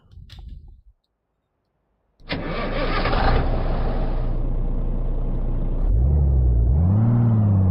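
A Peterbilt 379 truck in a driving video game cranks and fires up, then settles into a loud, steady diesel rumble, with the revs rising and falling near the end; the engine is heard alone, with no talk.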